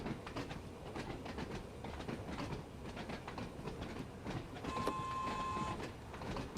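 A steady rumbling underground train interior on the Isle of Wight line in Train Sim World 2, with rhythmic clicking from the rails and a brief high whine near the end, fairly loud and continuous.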